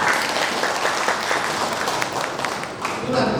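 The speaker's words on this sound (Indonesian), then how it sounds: "Tepuk tangan untuk kita semua." An audience at an education department focus group discussion in Central Lampung breaks into sustained applause, dense, even clapping filling the room at steady volume, with murmured voices faintly underneath.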